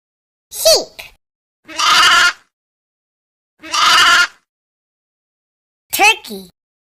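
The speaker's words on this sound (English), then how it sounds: "Sheep." A sheep bleats four times at close range, loud and wavering, each bleat separated by a short silence.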